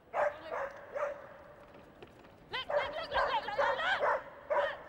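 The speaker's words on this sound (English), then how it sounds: "I love seeing these dogs. They're so vocal when they're working." Agility dogs at Crufts barking and yipping in short excited bursts, several sharp barks spread across the clip against a busy arena background.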